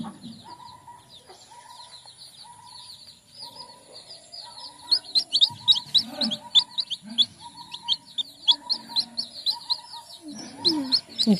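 Newly hatched chicks kept warm in a cloth, giving rapid, high, thin peeps in dense overlapping bursts, close by, with a few lower thumps and rustles among them.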